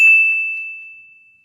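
A single bright bell ding, used as a notification sound effect, strikes sharply and rings out in a pure tone that fades slowly over more than a second, loud and alone.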